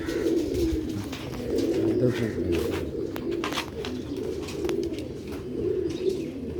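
Sialkoti mottled pigeons coo nearby in repeated low, rolling calls, with a few light chirps and rustles mixed in.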